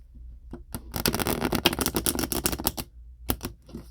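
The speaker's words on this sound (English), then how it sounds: "shuffle it one more time" A tarot card deck riffle-shuffled up close in a quiet ASMR setting, a rapid crisp burst of cards flicking and cascading together for about two seconds, followed by a couple of soft taps as the deck is squared.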